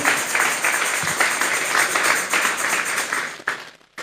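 A church congregation claps together as an offering of applause to God, a loud, steady roar of many hands filling the room, then cutting off abruptly near the end.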